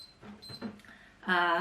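A kitchen timer sounds near the end as a short, bright electronic beep, ringing clearly after some faint rustling and quiet background noise in a home baking setup.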